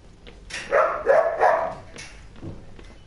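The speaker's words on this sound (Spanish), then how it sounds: "Ya se escucha la perra todo." A dog barking in the horror video game Outlast, a run of several loud, rough barks in quick succession, fairly close and standing alone without talk.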